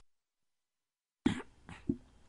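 Silence, then two or three sharp, close coughs in quick succession, loud and abrupt.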